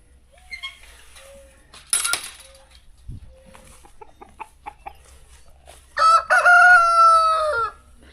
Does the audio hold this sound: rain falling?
no